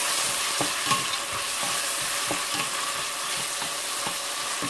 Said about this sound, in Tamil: இது நல்லா கோல்டன் ப்ரௌனாக ஆகட்டும், அது வரைக்கும் நல்லா ஃப்ரை பண்ணுவோம்